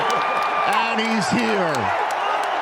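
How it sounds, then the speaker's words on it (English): A crowd at the 2025 NFL Draft in Green Bay roars steadily beneath a close commentator's voice as a wide receiver is picked. "Listen to this crowd."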